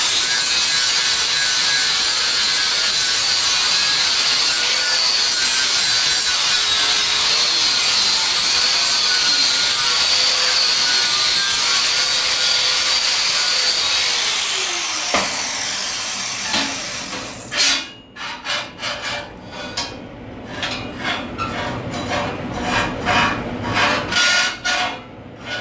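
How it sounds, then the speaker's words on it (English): Metal parts are sanded by hand for tack welding: a continuous, bright abrasive rasp that runs steadily, then turns into choppy, uneven scraping strokes near the end. "we'll continue sanding on that until we get those ready to tack weld on"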